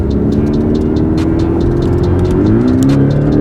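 A Porsche Cayman GTS in Sport Plus mode pulls at full power, its engine roaring loud and close with rising harmonic tones and a steady, dense drone throughout, no talk over it.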